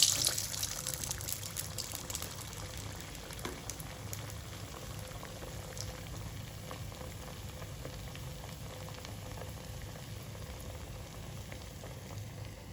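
Falafel patties fry in hot oil, giving a continuous, soft bubbling sizzle throughout with a slightly louder start and no speech.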